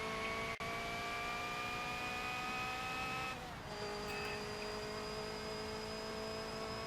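Race car in a Le Mans racing video game, with a steady engine whine holding high revs, a brief dip around a gear change and then rising again, close and continuous with no talk.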